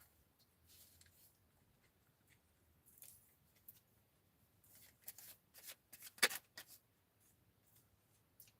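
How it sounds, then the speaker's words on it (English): Tarot cards being taken out and shuffled by hand, with soft, faint, intermittent rustles and card flicks and a sharper riffle burst near the end, heard close up with no talking. "Let's see if I can get my cards out and what my cards have to say."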